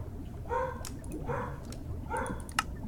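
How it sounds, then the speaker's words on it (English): A dog named Dora barks indoors in a few short, yelping bursts spaced about a second apart, moderately close over a low background hum. "Stop barking!"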